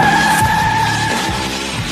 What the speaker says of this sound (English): First gear, second gear, third gear, transmission shifts so smooth and just burn out like